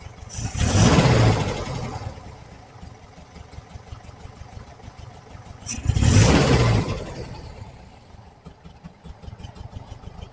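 A 1968 VW Type 3 engine with original fuel injection idles low and slightly uneven, blipped up twice in short revving swells before settling back to a steady, close-miked idle.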